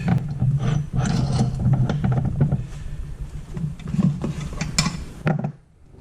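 A 12.5 millimeter bit drills into a pen blank on a lathe, giving a steady, loud mechanical whir with rattling, ratchet-like clicks throughout, cutting off abruptly near the end.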